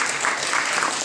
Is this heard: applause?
yes